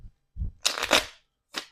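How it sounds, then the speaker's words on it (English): A deck of playing cards given a single quick shuffle on a tabletop, a crisp riffling burst followed by a brief tap as the cards settle. "So I'm just going to give this one shuffle for luck for next week."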